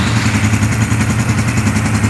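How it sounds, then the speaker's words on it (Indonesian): A motorcycle engine runs steadily at idle, its low rhythmic clatter loud and close with no talk over it. "Kita nyalakan mesin."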